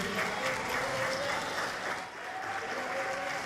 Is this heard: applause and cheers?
yes